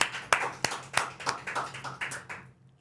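A small group of people in a podcast studio clapping, roughly eight distinct claps in a loose rhythm that fade and stop, close and fairly loud.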